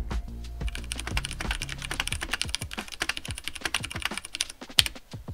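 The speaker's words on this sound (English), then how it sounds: "This switch also has a medium noise level when typing." Rapid, irregular clacking of typing on a mechanical keyboard fitted with brown switches, close and fairly quiet, with keystrokes falling in quick uneven bursts and no talk.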